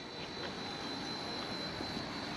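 An RC helicopter flies nearby, its rotor and motor making a steady, loud whirring drone with a high whine running through it and no break.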